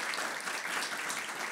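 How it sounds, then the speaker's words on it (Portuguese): A dense, steady round of audience applause for a guest speaker at a book fair event marking fifty years of liberty, loud and even throughout with no pause. "uma salva de palmas aqui ao nosso convidado, Fernando Rosas."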